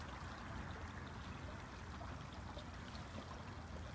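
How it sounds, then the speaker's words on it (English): A creek flowing strongly alongside Starvation Flats near Big Bear Lake, a steady, fairly faint rushing babble of water with no voices. "the creek that runs alongside Starvation Flats, and I must say it's flowing really well"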